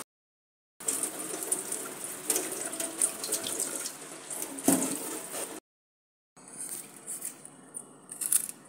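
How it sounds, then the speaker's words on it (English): Tap water runs steadily into a kitchen sink while vegetables are washed under it, a close, continuous splashing stream that stops briefly and then resumes. "I'm gonna wash the vegetable and we'll be right back"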